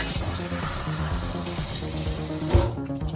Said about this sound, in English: The sink is calling, it's time to rinse.